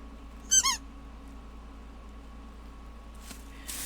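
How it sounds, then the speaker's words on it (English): A rubber dog ball toy squeaks in one short double squeeze near the start, loud and close over a quiet background hum, followed by faint rustling. "It squeaks."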